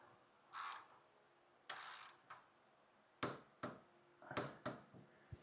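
A torque wrench clicking as it reaches setting on a bolt, a series of sharp, fairly quiet clicks and ratcheting bursts at irregular intervals, close up with no talk.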